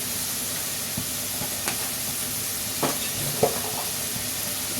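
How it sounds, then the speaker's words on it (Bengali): Coriander and cumin powder frying in a pan with eggplant, tomato and egg, a steady soft sizzle and hiss throughout, broken by a few light stirring scrapes and taps near the microphone. "মশলাটা কষাই।"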